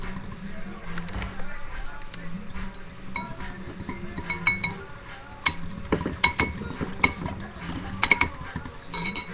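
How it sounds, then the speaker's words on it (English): Egg mixture for French toast whisked in a bowl, with quick irregular clinks and taps of the utensil against the side, growing sharper and denser toward the end, with faint background sounds beneath. "you're just gonna whisk it up real nicely"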